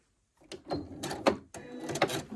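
A sewing machine stitches off the end of a quilt seam in short mechanical bursts with clattering clicks, starting after a brief silence, close and moderately quiet.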